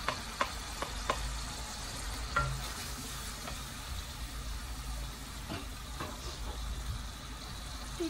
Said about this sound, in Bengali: আমার পেঁয়াজটাও দিলাইছি